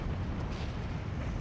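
A grenade explodes in the World War II strategy game Steel Division 2, a dense, rumbling blast that fills the whole moment with sustained, loud low-end roar and no clear pauses.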